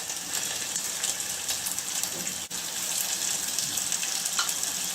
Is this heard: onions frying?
yes